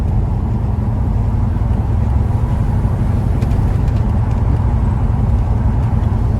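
A 1972 Chevrolet Chevelle's 350 V8 with headers idles steadily, a loud, close, low rumble holding an even tone throughout with no speech.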